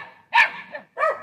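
Dogs bark on a street at close range, two sharp barks with a short gap between, fairly loud and without talk.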